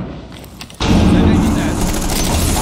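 Gunfire in Rainbow Six Siege during a collegiate competitive match: a quieter stretch gives way to a loud, dense, sustained burst of shots that fills the rest of the moment.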